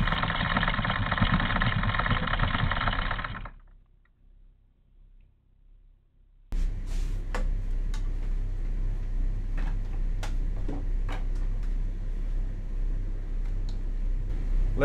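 A boat's twin engines idle on a German waterway with a steady, loud rumble for about three seconds. The sound then cuts to near silence, and a steadier background noise with scattered clicks follows.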